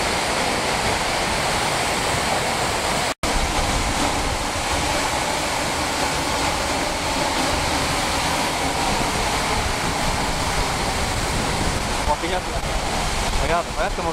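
An Icelandic waterfall roars from close behind the falling curtain of water, a loud, steady, dense rush that fills the space continuously, broken only by one abrupt momentary dropout.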